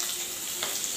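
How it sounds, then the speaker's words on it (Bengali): Fish fries in a pan with a dense, bright sizzle that runs on steadily and close, with no talking over it. "মাছ ভাজা হচ্ছে, আর মাছ ভাজা"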